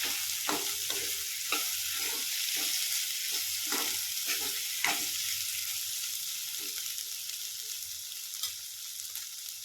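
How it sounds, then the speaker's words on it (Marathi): Mashed eggplant for bharit is mixed and fried in a pan, giving a steady sizzle with a run of soft scraping stirs in the first five seconds that then give way to continuous frying. "आता हे वांगे टाकते बारीक करून घेतलेले छान मिक्स करून घेऊ आपण"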